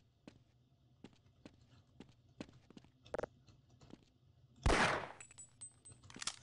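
Gunfire in Half-Life: a run of sharp, evenly spaced shots, then a loud, rough blast burst followed by quieter shots.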